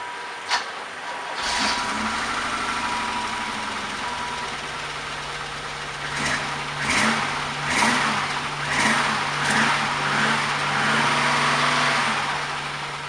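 A 1987 BMW E30 325e engine turns over and settles into a rumbling idle through a new exhaust and muffler, deep exhaust note, a few light revs rising and falling, close by.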